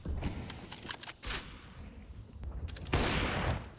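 Bursts of rifle fire from a CS:GO match on the Nuke map, Fnatic versus Ninjas in Pyjamas at IEM Fall 2021: several sharp shots scattered through the clip, closing with a louder sustained burst, all layered over busy game ambience.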